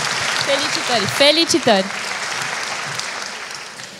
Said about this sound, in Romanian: acum o să o aplaudăm încă o dată